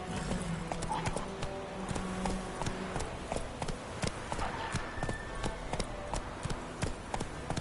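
Roach the horse gallops in The Witcher 3, a steady rhythmic clip-clop of hooves at moderate distance, fairly quiet, with faint ambient game sounds behind.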